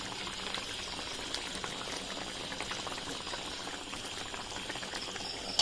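A pot of fish and banana flower curry boils steadily in water, with a dense, continuous bubbling hiss and a few brief louder pops throughout.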